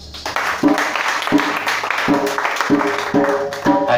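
A church congregation breaks into rhythmic clapping in acclaim of the Lord, steady claps landing about every half second or so, loud and close, with voices and music blended underneath.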